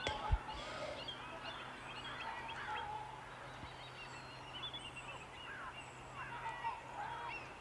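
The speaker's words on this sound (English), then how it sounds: "You can hear trumpeter swans in the background." Trumpeter swans call with honking, horn-like notes at a salmon run, several calls scattered through the stretch, soft and distant over an outdoor hum.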